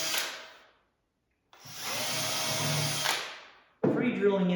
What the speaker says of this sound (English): Now I can take my 3/32 drill bit and I can drill through